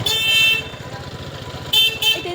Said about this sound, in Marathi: इथे ट्रक आलाय बाबा भीती वाटते.